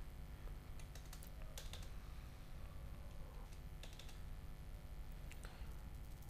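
Typing on a computer keyboard while entering a figure in a spreadsheet: a few quiet, close key clicks over a steady low hum, with no talking.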